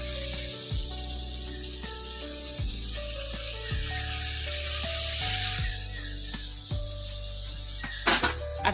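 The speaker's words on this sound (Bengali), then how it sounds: "সর্ষেটাকে একটু হালকা ভেজে নেব" Mustard frying in a pan gives a steady, close sizzle with faint crackles that runs unbroken throughout, no one speaking over it.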